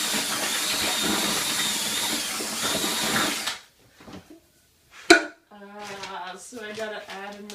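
A power drill with a paddle mixes Mapei Planipatch concrete leveler in a bucket, a loud steady grinding whir lasting a few seconds before cutting off, followed by brief knocks and then a voice speaking.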